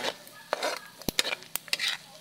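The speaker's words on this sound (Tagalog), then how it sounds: "halo-haloin lang natin to mga idol hanggang sa maging crispy yung ating nilulutong pili" Pili nuts frying in a pan of oil are stirred, with a soft sizzle under a series of sharp scrapes and clicks from the utensil, close and irregular.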